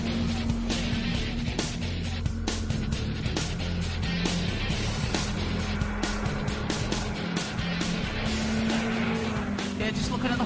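A motorcycle engine drones steadily as it pulls away onto an open country road after a roundabout, half buried under constant gusty wind buffeting and rumble.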